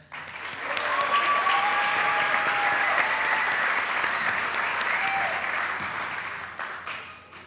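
A full room claps for a group at a Celebration of Excellence 2024 event, applause swelling after a second and holding steady before tapering at the end, with faint voices beneath.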